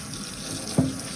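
Water runs steadily from a tap into a sink, rinsing conditioner out of a non-surgical hair replacement system, with a brief louder splash as it is squeezed near the end.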